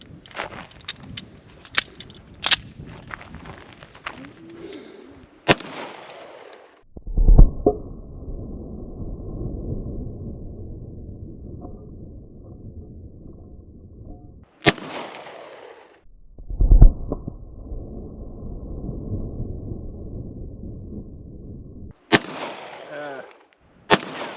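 A Glock 21 .45 ACP pistol fires at steel targets outdoors, with sharp, loud shots in scattered clusters separated by pauses, some followed by ringing impacts and faint background noise.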